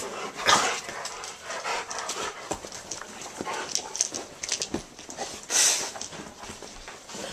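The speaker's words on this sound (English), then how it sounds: "He gets scared. He like barks at it." A dog gives a few sharp barks and whimpers at an air pump amid scuffling and panting, fairly faint and close, with no talking.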